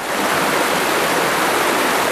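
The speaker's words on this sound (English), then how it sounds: "See the water coming in, the project almost completed." Water pours into a restored lake, a continuous loud, even rushing hiss like a small waterfall or stream, close by and steady throughout with no other sounds.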